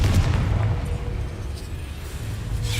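A Confringo blasting spell erupts in Hogwarts Legacy, a deep, rumbling explosive boom that rolls on steadily with low thundering energy and no talk over it.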